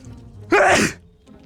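A single loud, close human sneeze bursts out indoors during a cardboard tank building game, about half a second long, with quiet room tone before and after.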